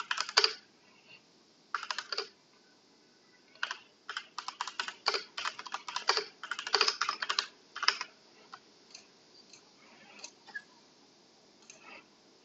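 Bursts of rapid tapping as a quote is typed on a mobile phone's on-screen keyboard, close and quiet, in short clusters separated by pauses.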